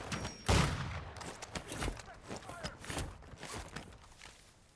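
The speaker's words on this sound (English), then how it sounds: "Oh, I'm getting sniped at." Sniper gunfire in Call of Duty Warzone, a loud sharp shot early on followed by scattered gameplay thumps, footsteps and effects, with players talking over the action.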